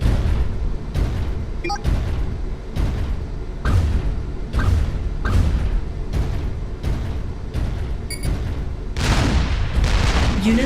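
Ground combat in the real-time strategy game Supreme Commander 2, with an ACU and Rockhead tanks attacking energy production facilities: a steady run of loud, repeated booming shots and explosions, roughly once a second, over continuous battle rumble.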